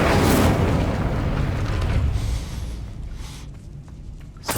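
A fiery Incendio spell bursts out in Hogwarts Legacy, a loud booming whoosh at the start that rumbles and fades over a few seconds, with a faint crackle trailing off at the end.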